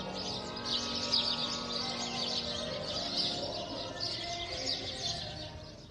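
House sparrows chirp continuously, a dense, busy chorus of high, bright tweets at moderate distance that runs throughout over a low background hum.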